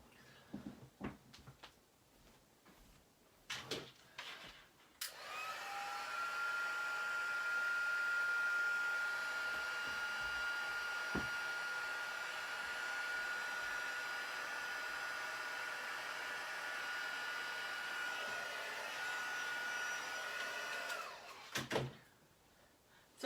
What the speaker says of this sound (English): now I'm going to walk it over to the heat gun